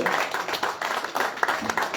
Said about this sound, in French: je vais demander, on nous applaudit pour nous, Le Carbet ensemble, et puis Gérard Mosquin